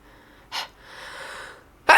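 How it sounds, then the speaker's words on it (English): A single person sneezes through the mouth during a makeup session after inhaling powder: a short sharp gasp, a pause with a soft breath, then a loud close explosive sneeze at the end. "I sneezed out of my mouth for safety."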